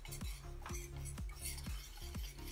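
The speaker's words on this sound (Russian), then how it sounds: "Замешиваем опару до конца и оставляем ее на полчаса." A spoon stirs and clinks against a bowl in a steady repeating rhythm, about five strokes, while yeast, baked milk and sugar are mixed into a starter for Easter cake, close and fairly loud.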